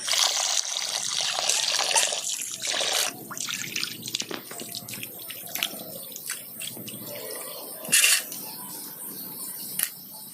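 Cleaned prawns being washed under a running tap, a loud rushing stream of water with splashing and handling, easing to a steadier flow with a sharp burst of splashing later on.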